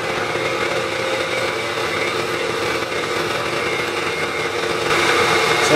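A milling machine taking a cut on a workpiece with no digital readout, running a second pass: a steady, loud mechanical whine and motor drone, growing slightly louder near the end, no talk.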